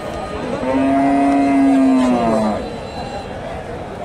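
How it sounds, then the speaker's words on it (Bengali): A cow gives one long low moo lasting a couple of seconds at a busy rural cattle market, loud and close over a background of crowd noise. "এখানে একটা গাভী দেখতেছি, সুন্দর একটা গাভী"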